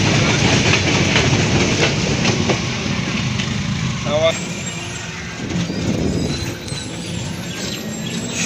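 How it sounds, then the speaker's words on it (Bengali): An empty freight wagon train rolls past on a rail line through a factory area in rural Pabna, Bangladesh, a loud steady rumble and rattle filling the clip, with a brief squeal partway through. "তাই এটা এদিকে মাল নিয়ে আসছে, কিন্তু এখন ট্রেনটা খালি সম্পূর্ণ"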